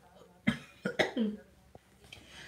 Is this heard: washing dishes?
no